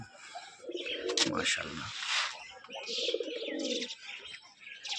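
A black jag pigeon male with long foot feathers and a black beak gives soft, low coos and chirps nearby while someone speaks over them briefly.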